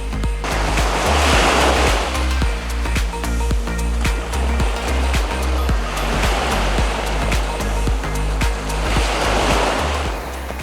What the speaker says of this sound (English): Just look at this perfect blue water and a quiet beach.